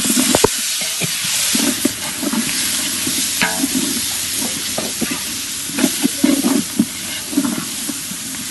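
Chicken pieces fry in a pan with home-ground chili powder, a loud, steady sizzle broken by scraping stirs and clatter, with no one talking over it.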